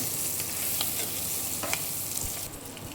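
Onion and green chili fry in a pan with a faint steady sizzle, broken by soft scraping stirs of a spoon at close range and no voices.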